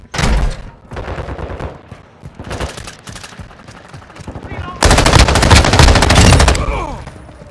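Call of Duty: Modern Warfare multiplayer gunfire: close, loud bursts of automatic fire in several separate volleys, with one long sustained burst near the end, while radio voice lines play between shots.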